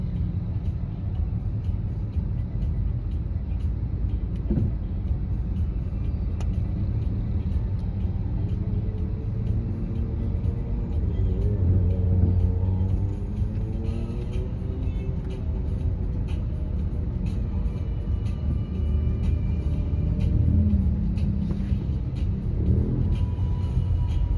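Road traffic rumbles past for a while, with car and bus engines passing close by and occasional revving over a steady low drone.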